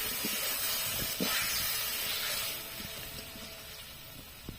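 Duck meat with ginger paste being stirred in a hot pan, giving a steady, hissing sizzle with light scraping strokes at irregular intervals, close and even, growing slightly quieter toward the end, with no talking.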